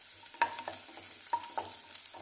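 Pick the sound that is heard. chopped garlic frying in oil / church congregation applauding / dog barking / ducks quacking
chopped garlic frying in oil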